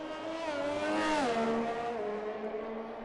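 A Ferrari race car engine in a racing video game screams at high revs, then drops in pitch as the car eases off, heard alone and fairly close without any talk.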